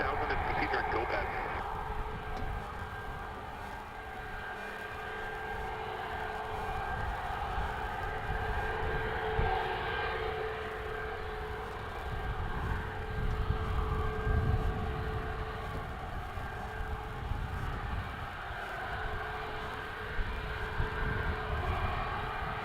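Jet engine roar from an aircraft at Edmonton International Airport, a broad steady rumble running throughout, with a voice talking over it.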